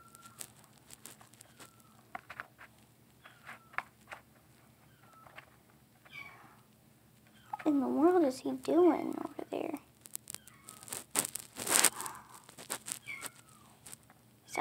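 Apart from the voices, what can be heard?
cat meowing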